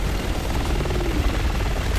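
An attack helicopter in the video game Resident Evil 6 roars with steady, loud rotor thumping and engine noise for two seconds, close and continuous.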